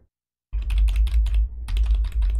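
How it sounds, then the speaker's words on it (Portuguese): Keys on a computer keyboard are tapped in quick bursts after a brief silence, close and clear over a low steady hum from the microphone. "Vamos fazer um teste aqui de teclado"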